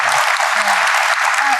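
Audience applause breaks out at a Nigerian talk event on gender inclusion, a dense, steady clapping from a crowd that fills the whole moment at close range.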